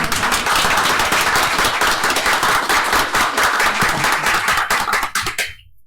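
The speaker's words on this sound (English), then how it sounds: "Let's give Senator Berman a round of applause." A room of attendees at a city commission meeting gives a steady round of applause, dense and close-sounding, holding for about five seconds before quickly dying away.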